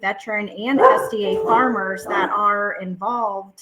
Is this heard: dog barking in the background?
yes